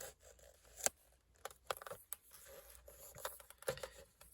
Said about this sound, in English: if I get one of these little narrow craft knives, I should be able to just cut through